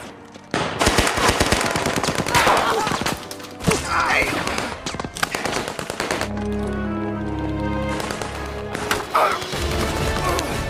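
Machine guns fire in a war film battle, with sustained rapid bursts of close, loud gunfire, brief pauses, then more volleys, with a low rumbling score under the later shots.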